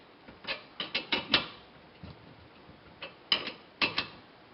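A ratchet wrench clicks in short bursts while tightening a rear brake caliper bolt on a VW MK5/MK4, each stroke giving several close, sharp metallic ticks, with quiet pauses between groups.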